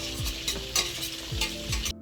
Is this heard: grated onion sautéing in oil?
yes